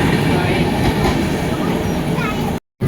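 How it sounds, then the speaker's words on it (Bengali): Passenger train pulling out of Mukuria station, a loud continuous rumble of wheels on rails with a rhythmic clatter, close and steady until an abrupt cut near the end. "ফাইনালি মুকুরিয়া থেকে ট্রেন ছাড়লো 10:59"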